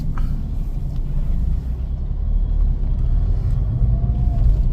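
Heavy road traffic drones steadily, a dense low rumble of cars and larger vehicles that grows slightly louder toward the end, with no speech.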